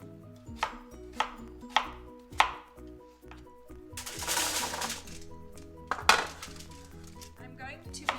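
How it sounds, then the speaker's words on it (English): Knife chopping yams into small cubes on a cutting board, a run of crisp evenly spaced thuds followed by scraping and a couple more cuts, close and clear. "I'm cutting my yams into very small cubes just to speed up the cooking time"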